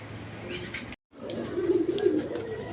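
A pair of quality shirting pigeons coos close by after a brief gap, the low rolling coo swelling over a faint background hum.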